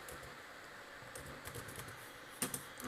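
Fingers tap out text on a computer keyboard, a faint patter of light key clicks that sharpens into a couple of firmer strokes near the end, with no talking.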